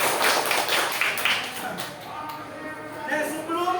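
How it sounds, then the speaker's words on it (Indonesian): A group of people clapping hands in a room, quick taps and claps in an uneven burst that thins toward the middle and picks up again near the end, with voices talking underneath. "Oke, tepuk tangan untuk kita."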